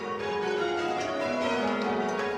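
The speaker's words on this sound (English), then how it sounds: "bell ringing is thriving" Church bells ring at St Paul's in Birmingham, with sustained overlapping tones in a steady wash of change ringing that is moderately loud and has no talking.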